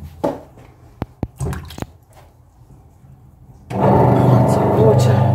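Hard clay being thrown on a pottery wheel for a tagine lid, with a few sharp wet slaps and squishes early on, then a loud, steady wash of spinning wet clay and plenty of water taking over.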